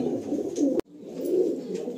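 A pigeon coos close by in low, throaty rolling calls, two soft phrases split by a brief gap.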